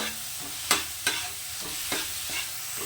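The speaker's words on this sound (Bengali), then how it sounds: "এবার এটাকে এর সঙ্গে খুব ভালো করে কষিয়ে নেব" Fried potatoes sizzle steadily in a hot pan while a spatula scrapes and taps against it a few times, close and without speech.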